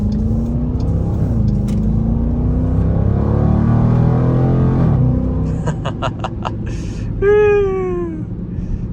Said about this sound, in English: It's the visceral sound of that Hemi.